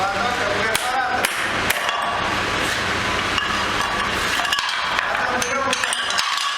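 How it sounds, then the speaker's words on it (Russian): A hammer swung like a rotary hammer chips away at old tiles during a workshop demolition, giving a steady run of sharp metallic clinks and knocks over constant background noise. "Берем молоток как перфоратор."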